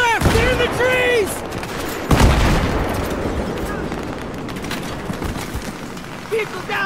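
Dense gunfire and a heavy blast during an ambush in the video game Battlefield 3, with a loud impact around the two-second mark and continuous crackling fire behind it, while voices shout near the start.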